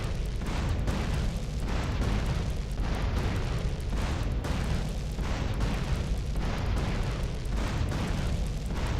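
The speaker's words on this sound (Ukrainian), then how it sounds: "наблюдайте, як психовний чувак взриває танк" Repeated booming blasts from a tank exploding in GTA San Andreas, dense and loud, with regular thumping bursts roughly every second over a continuous roaring rumble.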